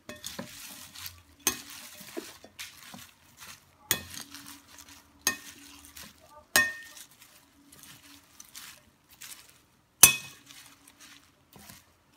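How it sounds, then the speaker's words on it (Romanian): A spinach salad is tossed after a few sprays of oil, with irregular clinking and scraping strokes against a bowl every second or two and quiet rustling between them, close and alone. "Voi pune câteva pufuri de ulei și voi amesteca."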